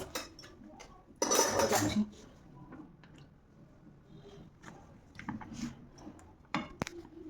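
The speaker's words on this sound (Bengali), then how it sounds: "আমি ফুটো ফুটো করছি কেন বলতো?" Metal fork pricking holes in a pizza base, a burst of dense scraping clinks followed by scattered light taps and clicks, close up with no talk.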